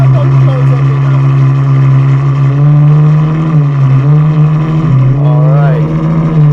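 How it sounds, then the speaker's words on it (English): Novitec-tuned Ferrari F12 N-Largo engine roaring loud and raucous at close range, a steady heavy drone with rising pitch sweeps as it accelerates, dipping briefly between revs. "This thing is loud and raucous."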